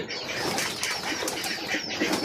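Racing pigeons waiting for food make soft cooing and chirping amid continuous close wing fluttering, a dense, even flock sound without talk.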